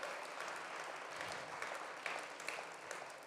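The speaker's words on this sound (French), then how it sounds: "on peut l'applaudir très fort" Distant, faint applause from an audience at a French industry business event, a soft continuous patter of many hands with no voices on top.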